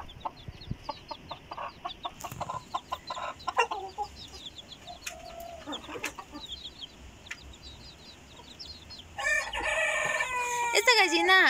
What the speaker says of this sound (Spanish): Y por aquí tenemos a la mamá gallina con sus 5 pollitos,